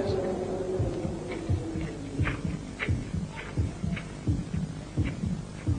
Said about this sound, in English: A heartbeat.